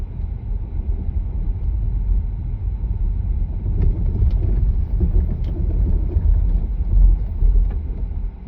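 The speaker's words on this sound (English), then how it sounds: "I'm going to go downhill and hit the brakes and see how controlled we are on these particular tires" A car on Pirelli Scorpion Mud and Snow tires brakes downhill on snow with anti-lock brakes activating: a steady low rumble of tires and engine sounds close up throughout, with a few faint ticks midway and no talking.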